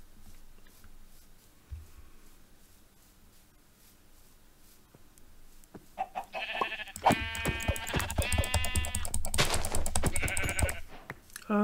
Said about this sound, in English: Hello, sheep. Where are you?